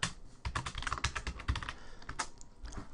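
Quick, uneven clatter of keys being typed on a computer keyboard, close and fairly quiet, with no voices.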